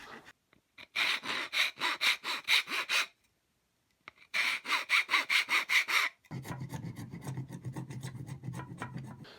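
Rhythmic back-and-forth rasping of a file on wooden furniture dowels, removing glue residue, in two bursts with a short pause, then a steadier, lower scraping, close and fairly quiet.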